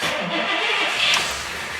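A Pontiac 389 V8 with an exhaust manifold leak at the downpipe runs close by just after starting, a loud steady rough engine roar with a hissy edge for under two seconds.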